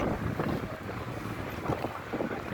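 Steady wind buffeting the microphone at an outdoor market in Dammam, a loud continuous rumbling roar with no voices.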